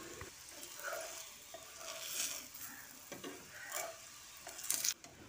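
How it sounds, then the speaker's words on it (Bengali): A mixed-vegetable paratha frying in white oil in a pan, a soft close sizzle with gentle scraping and stirring touches and a brief clink near the end, quiet and without talk. "এবার সাদা তেল ছড়িয়ে পরোটাটা ভেজে নেব"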